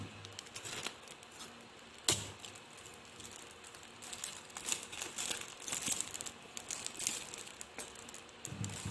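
A parcel is cut open and its packaging pulled apart, heard as close crinkling, scraping and sharp snaps of plastic and cardboard in uneven bursts, with no talking.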